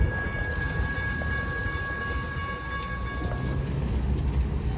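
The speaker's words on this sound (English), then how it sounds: "So right now we're pacing that freight train." A freight train rolls past while being paced from a car on a bumpy road near Sulfur and Knox avenues. It makes a continuous low rumble of wagons with a steady high whine, heard at moderate distance without talk.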